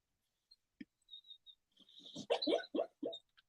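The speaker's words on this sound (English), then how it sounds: "Can y'all hear my puppy?" A puppy indoors gives faint, scattered squeaks and whimpers that build into a short burst of high, yappy little barks, close but quiet, with no talking.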